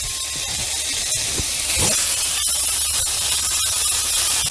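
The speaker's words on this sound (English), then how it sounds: "And now I'm gonna add in my chicken." Chicken sizzles in olive oil in a pan, a loud, steady bright hiss that swells slightly midway, with a few faint clicks and no talking.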